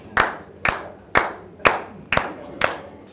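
Six sharp, evenly spaced hand claps ring out about half a second apart, close and crisp, with no voices over them, as a studio audience at an entertainment show with games and prizes applauds.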